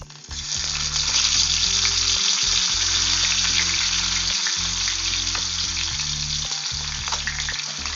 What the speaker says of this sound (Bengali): এবার প্রথমেই আমি মাছের মাথাটা নুন হলুদ মাখানো আছে সেটা ভেজে নিচ্ছি।